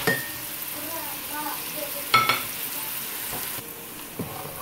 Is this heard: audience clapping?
no